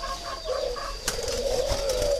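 Pigeons or doves at a breeding farm coo softly in repeated low notes while wings flap in short bursts nearby, with a sharp clatter partway through.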